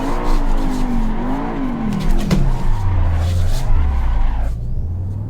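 A car drifting through a long corner of the Nürburgring GP circuit in a racing simulator, tires squealing loudly and continuously while the engine revs rise and fall, with no speech.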